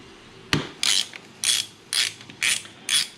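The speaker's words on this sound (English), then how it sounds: "It's an 18mm hex. We're gonna go ahead and crack that off and drain the oil into our drain pan," A ratchet cranks loose an 18mm hex oil drain plug on a KTM 390 motorcycle, starting with one sharp crack, then five clear clicking ratchet strokes in an even rhythm, close and loud with no voices.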